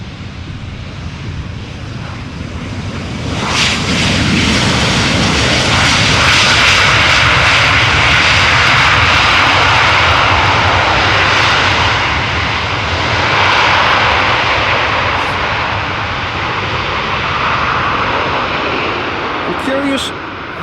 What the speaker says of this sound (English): this 737 sounded more impressive with their thrust reversers applied